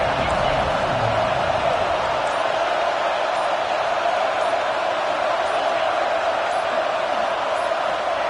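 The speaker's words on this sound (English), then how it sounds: "Decibels rising as the crowd gets behind this defense on 3rd down" Football stadium crowd roaring on third down, a steady, unbroken wall of noise that holds at the same level without peaks or breaks.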